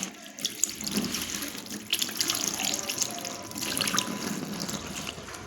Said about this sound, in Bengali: এবার একটু ধুয়ে নেবো গাইস।